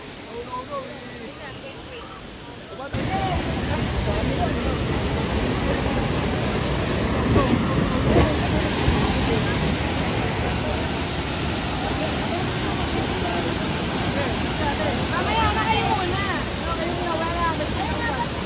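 Taytay Falls in Majayjay roars as a loud, steady waterfall rush that fills the whole scene, with people talking over it.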